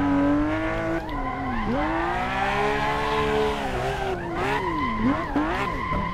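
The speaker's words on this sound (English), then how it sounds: "This thing doesn't drift very well at all." Car drifting in a Hot Wheels racing video game, with a loud, continuous tire squeal and skidding over a revving engine tone that rises and dips as the car slides through turns.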